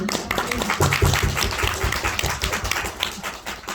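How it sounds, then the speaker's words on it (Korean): A small audience at a Korean film screening talk claps for an actor, a loose, moderately close patter of hands with a few sharper claps standing out. "박수 드리고 싶고요."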